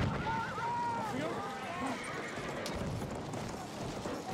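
Horse in the video game Battlefield 1, whinnying loudly and galloping with steady hoofbeats under constant game noise.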